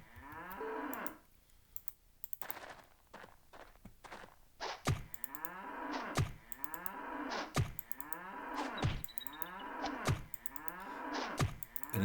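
Cattle in the video game Jagged Alliance 2 give a series of drawn-out moos, several calls overlapping in a slow rhythm, joined by thudding footsteps and soft clicks, with no talk.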